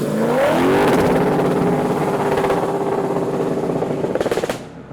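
A supercharged 4.5-litre Rover V8 in a TVR Chimera revs hard against the limiter, a loud, close, buzzing roar that holds steady with a stuttering flutter before cutting off.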